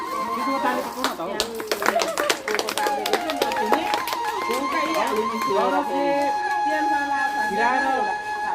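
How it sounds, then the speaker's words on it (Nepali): Students applaud at a school event about motivating them to clean up, a burst of clapping that thins out under continuing talk and voices. "उनीहरूको लागि फेरि एकचोटि जोरदार ताली"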